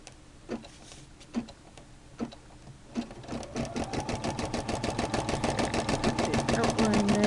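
A Brother SE-400 embroidery machine starting with a few spaced single clicks, then building into a fast, steady stitching rhythm that grows louder to the end.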